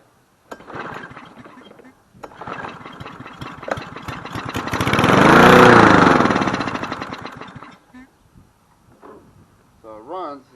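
A Cub Cadet SC 300 walk-behind lawn mower is pull-started, sputtering into a loud rising engine roar that peaks and then dies back to intermittent knocks; a voice speaks briefly near the end.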